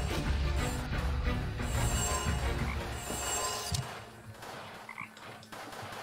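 Frog croaking in the video game Chaos auf Deponia, heard alongside a dense, continuous layer of game ambience and music, with low rumbling tones and a quieter stretch toward the end.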